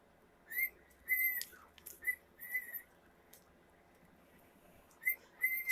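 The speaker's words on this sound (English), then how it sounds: "he's at the door whistling" A pet bird whistles at a door indoors, giving several short, bright, high whistles in irregular bursts with quiet pauses between, fairly close and alone.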